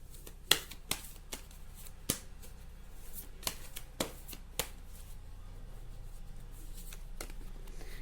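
Tarot cards being shuffled and snapped by hand during a card reading, a series of soft, crisp flicks and taps, quiet and close, spaced irregularly over a faint low hum.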